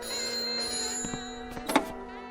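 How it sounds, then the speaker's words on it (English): A telephone bell rings over a steady electronic hum, with a few sharp clicks and a brief louder jangle near the end. "Or the telephone ringing."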